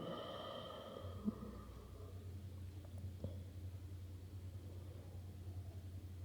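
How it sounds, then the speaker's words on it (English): Slow, deep breathing during a yoga session: a soft, airy exhale at the start fades into a quiet room with a steady low hum underneath, close and faint. "And taking again some deep breathing here."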